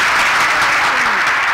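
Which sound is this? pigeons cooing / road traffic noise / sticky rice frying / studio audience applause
studio audience applause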